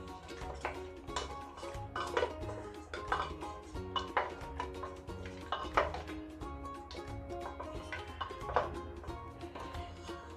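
Cooked mutton paya curry stirred in an opened pressure cooker, a series of faint metallic clanks and scrapes of a ladle against the pot at an irregular rhythm, alone without speech.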